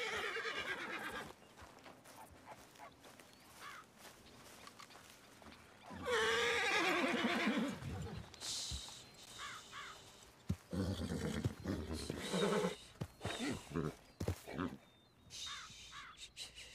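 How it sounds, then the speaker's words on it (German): A white horse whinnies loudly in the Red Dead Online video game, with hoof clops and bird caws nearby, while people talk over the game sounds. "Das ist ein Schimmel."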